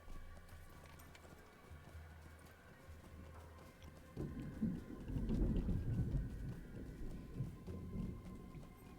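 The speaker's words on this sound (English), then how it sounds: "That's loud thunder." Rumbling thunder rolls in after a few quiet seconds, a low, loud swelling growl that lingers and slowly fades against a steady background.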